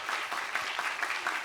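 Audience applause at a K-dance book concert, honoring a panel after a long talk: dense steady clapping from a crowd, continuous and moderately loud through the whole brief stretch, with no voices over it.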